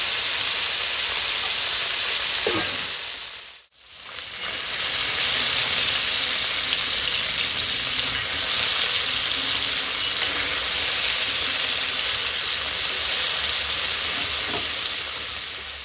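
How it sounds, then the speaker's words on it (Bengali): Fish frying crisp in a pan crackle and hiss in a loud, steady sizzle, with one brief dip in the middle where the sound drops out before the frying resumes at full strength. "মাছগুলো নেড়ে চেড়ে দুই সাইডটাই ভালো করে একদম কড়া করে ভেজে নিয়েছি।"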